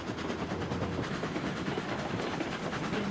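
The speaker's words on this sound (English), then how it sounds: "I like the sound of the train, though." A train runs steadily in the railroad game Railroads Online: a continuous, loud, full rumble with a faint rhythmic clatter of wheels throughout, and no voices.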